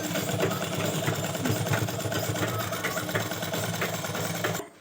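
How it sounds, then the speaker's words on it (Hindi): Sewing machine running double stitching over lace on a fabric baby gown for a two-year-old girl, a close, continuous whirring hum throughout before it cuts off abruptly at the end. "तो इस तरह से मैं इसके ऊपर डबल सिलाई ले रही हूँ।"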